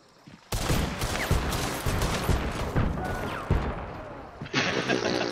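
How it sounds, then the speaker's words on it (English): Shotgun fire in the video game Hunt: Showdown: several loud, close blasts in an irregular burst over a few seconds, with mechanical clatter and no talk. "He's got a shotgun."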